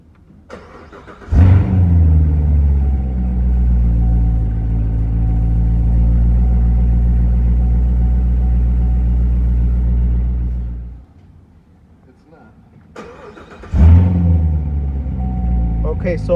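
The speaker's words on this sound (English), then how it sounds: "So I'm gonna go ahead and start the car" A 2019 Corvette Z06 fires up with a loud crank and roar, settles into a steady, deep idle for about ten seconds, shuts off, then starts again.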